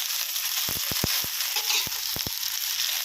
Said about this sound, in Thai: ใส่ กระหล่ำปีลงมานะครับ ลงมาผัดนะครับ ผัดคลุกเคล้าสักครู่นะครับ